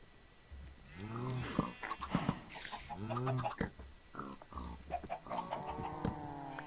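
Chickens in Minecraft (All The Mods 3) cluck in short repeated bursts, close and clear, with other farm-animal grunts mixed in.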